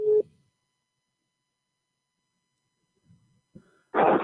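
A failed telephone call on a radio broadcast line gives short tonal beeps of a busy signal, one at the start and another burst at the end, separated by near silence and faint line noise.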